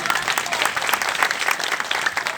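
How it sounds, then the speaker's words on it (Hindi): Church congregation applauding during a Hindi-language sermon, steady dense clapping throughout, fairly loud and close, with no talk over it. "रोज उसके लिए तालियां बजाओ।"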